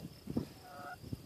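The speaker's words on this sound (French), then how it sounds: "Donc les poules dans leur petit parc improvisé." Chickens kept in a small improvised pen fenced with tiling grid panels give a few short, quiet clucking calls close by, with a brief soft call in the middle and no talking.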